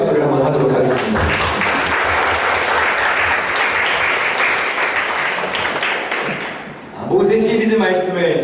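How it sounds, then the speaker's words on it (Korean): A church congregation at a Sunday service breaks into sustained, loud applause for the mothers, dense clapping filling the room for several seconds before it fades and a voice begins speaking. "감사와 또 격려의 마음을 담아서 어머니들을 향해 크게 격려의 박수를 한번 하도록 하겠습니다"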